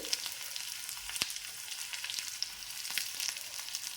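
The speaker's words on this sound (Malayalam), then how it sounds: "കുറച്ച് ചെറിയ ഉള്ളി അരിഞ്ഞതും കരിവേപ്പിൻ്റെ ഇലയും കൂടിയാണ് വറവിടുന്നത്" Chopped small onions and curry leaves frying in hot oil for a tempering, a soft continuous sizzle with scattered pops and crackles, close by and with no voices.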